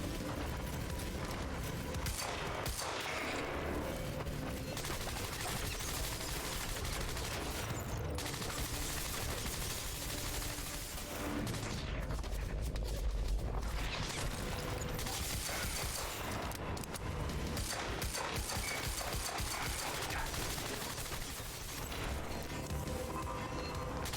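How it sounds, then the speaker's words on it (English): Dense, continuous game gunfire and mechanical clatter from the shooter Quantum Break, loud and sustained throughout with no pauses, layered with metallic ratcheting and impact noise. "The effective range of this gun really sucks"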